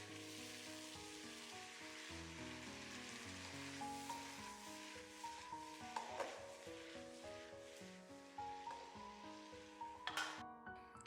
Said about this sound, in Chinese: 出锅前把蒜苗加进来，翻炒5、6、7、8下就可以出锅啦